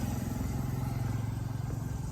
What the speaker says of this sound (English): here comes a moped